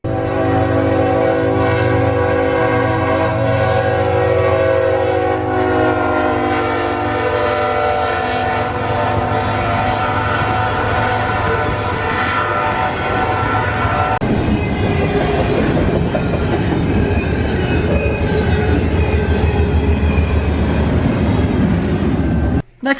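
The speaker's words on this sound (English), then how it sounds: "we see an S intermodal with some pretty standard power" An intermodal freight train on a railway in Emporia, Kansas, sounds a loud sustained horn blast as it approaches, then the horn stops and a steady rumble and rattle of cars rolling past carries on nearby.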